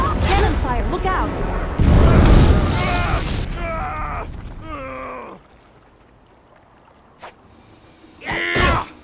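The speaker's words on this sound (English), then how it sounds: "Cannon fire, look out!" Cannon fire in the video game Jade Empire, heavy booming blasts and rumbling impacts mixed with shouting voices, loud and close, then a quieter stretch before another short burst of noise.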